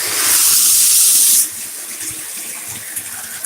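Shower water hissing loudly right after being switched on over a river rock shower floor, a bright steady spray that abruptly drops to a softer, quieter flow partway through.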